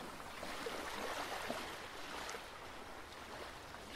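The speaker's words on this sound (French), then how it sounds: "le son de ces vagues, très planes, s'étale lentement sur le sable dans un doux murmure qui te berce" Gentle ocean waves spreading slowly over sand, a soft, steady wash and hiss with no distinct breaks, calm and continuous.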